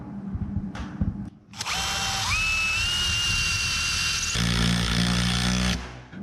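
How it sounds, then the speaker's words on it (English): Power drill boring a hole in a hard lid, motor spinning up with a rising whine, then a steady, loud drilling run that shifts in load before stopping, with no talk. "got a couple more holes to drill"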